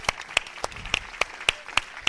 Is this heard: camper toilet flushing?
no